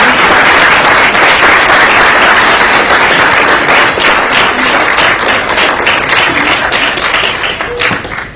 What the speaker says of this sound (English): Let's give another round of applause till the minister makes her way to her seat.